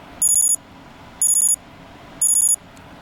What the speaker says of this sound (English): I'll be listening for alarm 1, and just again, this is what it's going to sound like.